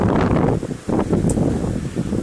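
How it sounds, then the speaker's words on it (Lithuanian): Strong wind gusts across a boggy, dystrophic lakeshore in Lithuania, roaring as steady broadband buffeting on the microphone with a brief lull midway before the blustering resumes. "O vėjuota tai labai šiandien."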